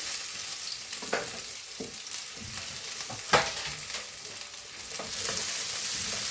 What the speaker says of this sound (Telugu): ఉల్లిపాయలు ఫ్రై అయ్యాయండి